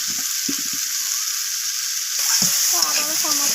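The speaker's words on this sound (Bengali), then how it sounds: "সমস্ত কিছু মশলা এইভাবে কষিয়ে নিচ্ছি।" Spice masala with garlic and ginger paste sizzling in hot oil in a pan, a steady bright fry with stirring scrapes and clinks throughout, close and continuous before cutting off.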